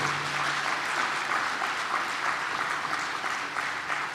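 Steady applause from a lecture audience, moderately distant and sustained evenly for a few seconds with no talking over it.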